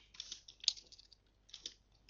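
Fingers type on a computer keyboard in two quick bursts of light clicking keystrokes with a pause between them, close and fairly quiet, with no talk.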